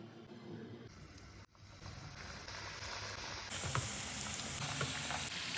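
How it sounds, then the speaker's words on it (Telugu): Small balls of gavvalu dough deep fry in hot oil, a continuous crackling sizzle that swells louder partway through as more pieces go in, with occasional stirring clinks and no talk. "దీన్ని చిన్న చిన్న ఉండలు తయారు చేసుకున్నాం. ఇప్పుడు డీప్ ఫ్రై చేసుకుందాం."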